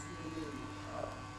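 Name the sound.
electric hair clippers cutting a skin fade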